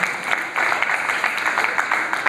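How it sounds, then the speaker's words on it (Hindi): Audience at a Jain religious discourse breaks into applause, a dense, steady crackle of many hands clapping close by that carries on without pause from start to finish. "अगर आप लोग ताली बजाने में तो प्रशिक्षित हो गए"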